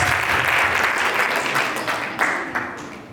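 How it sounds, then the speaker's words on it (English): Applause from an audience honoring two participants at a Jain community appreciation event, a dense steady round of clapping that gradually thins and fades near the end. "one big round of applause for both the participants"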